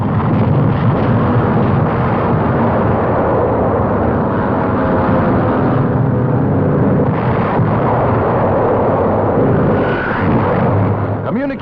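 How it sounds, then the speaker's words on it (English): Allied air bombardment in Normandy blasts German defenses, a dense, continuous roar of explosions and rumbling that stays loud and unbroken throughout, like a wartime newsreel soundtrack. "Communications necessary to the German defenses are blasted."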